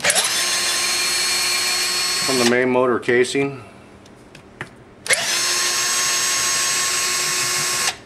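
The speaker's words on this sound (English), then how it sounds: "I've just got a drill here. And let's get these four bolts out of here." A loud power drill whines steadily removing through bolts from a Pentair Whisperflo pool pump motor, stops while someone speaks briefly amid small clanks, then starts up again and runs at full speed.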